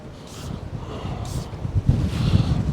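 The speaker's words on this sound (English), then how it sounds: "Bit windy, apologies." Gusty wind buffets the microphone in low rumbling surges, with faint hissy bursts rising and falling.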